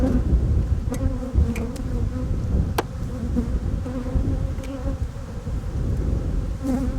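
Honeybees shaken off a hive frame give a steady, dense buzzing swarm drone, close and loud, with a few sharp ticks and bumps over the continuous hum.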